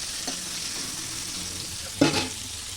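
Green chillies and onions frying in a hot pan with a pinch of salt, a steady close sizzle with a short burst of stirring scrapes near the end.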